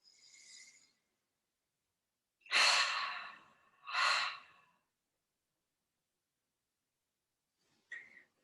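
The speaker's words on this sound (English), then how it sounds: "So everybody's still breathing." Several long, breathy exhalations during a yoga pranayama session, with a soft breath at the start, two strong airy breaths in the middle and a brief faint one at the end, separated by silence.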